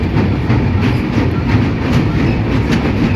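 Tamil Nadu Sampark Kranti Express passenger train crossing the Krishna river bridge near Vijayawada, heard from on board as a steady, loud rumble with continuous wheel clatter on the rails and no talk.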